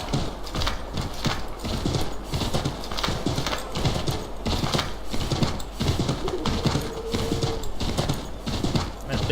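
Horse hooves clip-clop at a steady walking rhythm in Assassin's Creed III Remastered, close and continuous throughout, with a faint bird cooing in the background.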